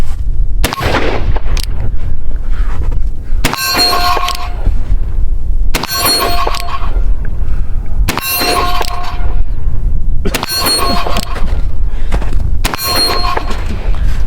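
Pietta cap and ball revolver fired outdoors, six loud booming shots spaced about two seconds apart, each with a ringing tail and no talk.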